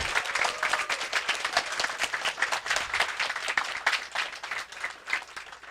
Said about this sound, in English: Little round of applause to all of you in these teams.